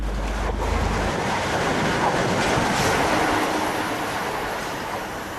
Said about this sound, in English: We're currently watching a train moving from Darlington to Northallerton.